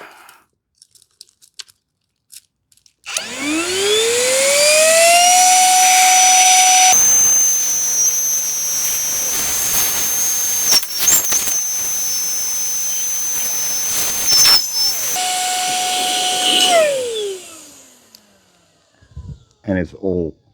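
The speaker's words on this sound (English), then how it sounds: "After all this air blowing, it used one stripe." A Mellif 18V cordless air blower, compatible with Makita batteries, pushes air through a nozzle. Its rising whine spins up to a loud, steady roar, holds for over ten seconds, then winds down.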